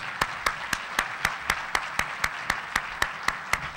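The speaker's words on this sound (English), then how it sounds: "you all join me in giving Roland an incredible round of applause." Sparse, evenly spaced claps ring out in a steady rhythm, about four per second, like a small group clapping in unison.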